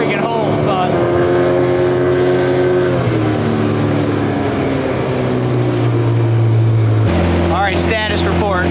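Twin outboard motors push a tiny boat, their steady droning hum running close and loud, the pitch shifting as the engines change speed partway through, with rushing wind and water noise underneath.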